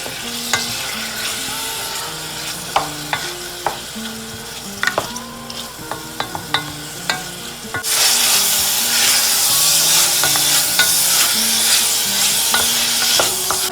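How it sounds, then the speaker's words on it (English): Sockeye salmon searing in a pot for chowder: light scraping and tapping of a utensil against the pan over a low sizzle, which swells into a louder, steady frying hiss partway through, with no talking. "I want to get a little sear on the salmon."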